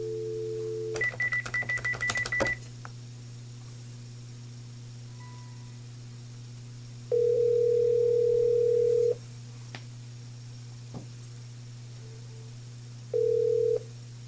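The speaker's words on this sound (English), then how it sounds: "we're just going to dial the number that we want to transfer the call to" Dialing an external number on a Panasonic TGP phone system: a rapid string of keypad tones over a steady line hum, followed by two longer, loud ringback tones with a gap between them. Close and clear, with no talking.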